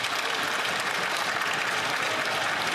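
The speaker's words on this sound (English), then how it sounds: "So for the record, that's the Liberals that are clapping" Liberal members applauding in the Canadian House of Commons, a dense, steady wash of many hands clapping at once that carries on evenly for a few seconds, with no voice over it.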